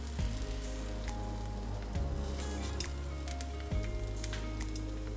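An egg flipped over easy sizzles steadily in a frying pan, a continuous crackling fry with a low hum underneath and a few faint clicks, no talking.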